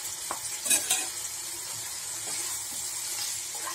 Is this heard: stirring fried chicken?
yes